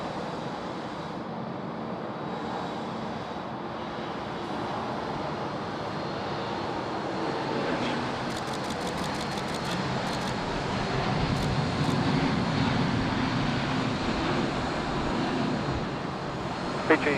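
A Singapore Airlines airliner at Sydney Airport rumbles with a broad, steady jet roar, swelling slightly louder toward the end, mixed with wind noise on the microphone.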